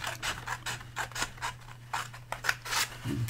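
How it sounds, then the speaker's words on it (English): Scissors cut paper for a shadow box book, giving a close, rapid series of crisp snips in a steady rhythm throughout. "cut another one here"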